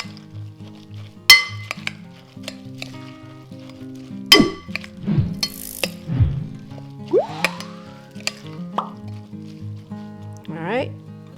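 A utensil stirs a ground turkey meatball mixture in a bowl. Scattered clinks and soft squishy scraping sound close by, under a voice talking.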